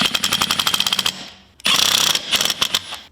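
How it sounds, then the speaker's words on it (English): A small impact wrench tightens lug nuts on a Jeep wheel fitted with a 38x12.50R17 Nitto Ridge Grappler tire, firing loud rapid hammering bursts, then a short pause before another long rattling run, close up with no talk. "I'll be using my small impact wrench to help speed things along."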